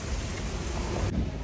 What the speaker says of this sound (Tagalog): Umaambon-ambon pa din mga kachika, oh.